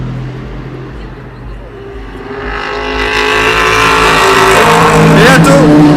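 Race car at the 24 Hours of Le Mans swelling from a distant drone into a loud, rising engine roar as it approaches and passes close by at night.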